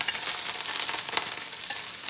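Sliced mushrooms and green onions sizzle and crackle steadily in a hot pan, a bright, close frying hiss with small pops, no voices.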